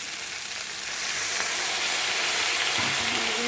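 Vegetables frying with spices in a pan hiss with a steady, loud sizzle that swells as a little water is added, with faint stirring scrapes near the end.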